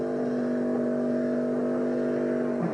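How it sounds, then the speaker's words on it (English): Stock car engine held at steady revs during a caution period at the 2000 Sears DieHard 250 NASCAR race, a continuous loud droning hum with strong steady harmonics, slightly rising near the end, with no talk over it. "You can hear Todd revving the engine up there to check it now."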